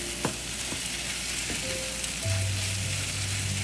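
Breakfast skillet with cheese sizzling in a pan over medium heat, a steady close crackle and hiss with a few small clicks, no talking.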